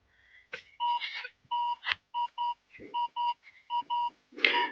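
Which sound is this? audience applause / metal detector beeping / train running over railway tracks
metal detector beeping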